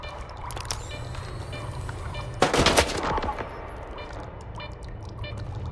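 A short, loud burst of automatic gunfire in the video game S.T.A.L.K.E.R. 2 rings out midway through, rising sharply above a steady bed of ambient game noise with faint scattered clicks before and after.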